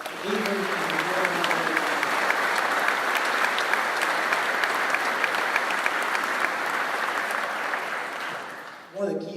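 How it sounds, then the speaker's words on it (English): Sustained audience applause at a 2018 coal mining expo, a dense, steady crowd clapping that holds at full strength for about nine seconds before tapering off, with a brief swell near the end. "Please join me in giving them a round of applause."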